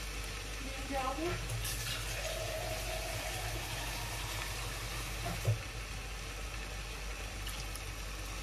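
Water goes into a simmering pot of lentils and vegetables, a steady liquid rush with stirring, one sharp knock midway and a brief voice early on.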